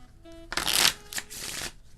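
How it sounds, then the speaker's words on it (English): A deck of playing cards is shuffled close up: a short riffle burst followed by a couple of quicker ruffles, each crisp and papery, all over within about two seconds against a quiet room. "did a shuffle."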